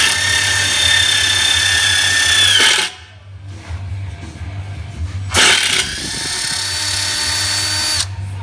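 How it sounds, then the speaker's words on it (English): A 3/8 drill bit cuts through a steel pin during an R34 Skyline CD009 transmission swap, in two loud, close bursts of power-drill whine separated by a short pause. "You want to drill all the way through on both sides."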